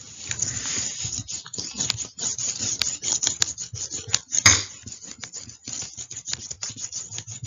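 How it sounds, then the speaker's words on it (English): A board eraser wiping out maths working: steady, close scrubbing and rasping strokes in a rapid back-and-forth rhythm, with one sharper knock midway, and no voice. "so I'm going to erase."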